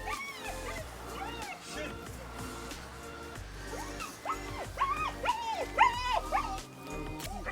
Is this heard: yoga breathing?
no